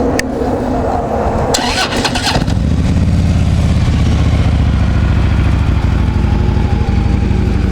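A Harley Davidson Tri Glide FLHTCUTG motorcycle with factory exhaust and 5,256 miles cranks briefly, then fires up and settles into a steady, close, rumbling idle with no talk over it.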